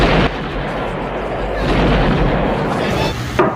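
A loud, heavy explosion from the film GoldenEye booms and rolls into a sustained rumbling roar, close and powerful, before cutting off abruptly.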